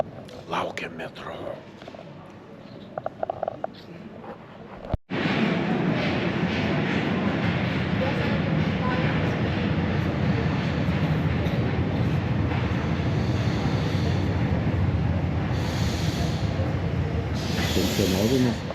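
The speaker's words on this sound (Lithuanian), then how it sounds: "Senas metro." An old Paris metro train arrives and runs through the tunnel, shifting from quieter station ambience with voices to a loud, sustained rumbling roar with hissing and squealing on top.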